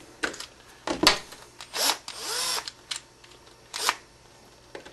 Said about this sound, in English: when you're using an electric screwdriver